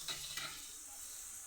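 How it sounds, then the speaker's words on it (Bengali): Ground mustard paste goes into a frying fish curry with potato, kakrol, onion, ginger and garlic and is stirred in, a soft close hiss of sizzling oil with a brief scrape of stirring at the start. "এবার আমি এর মধ্যে দিয়ে দেব সরষে বাটা।"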